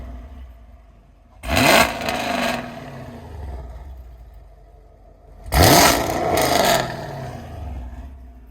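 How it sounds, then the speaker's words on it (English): A 2021 Camaro 1LE engine with longtube headers blips twice, each sharp rev rising and falling quickly over a low idle rumble, loud and close. "Rev that bitch up, bro."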